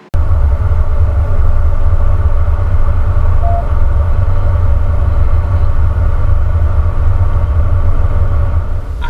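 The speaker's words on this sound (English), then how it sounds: "That's just the camera just picking up on some of the road noise for the tire." Tire road noise from a 2019 RAM 3500 Mega Cab Cummins pickup on the move, a loud, steady low rumble with a faint tonal howl above it, continuous and close throughout.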